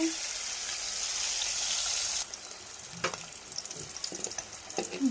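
Dried fish hits hot oil in a pan with a loud burst of sizzling, which then settles into softer crackling and popping with occasional stirring clinks.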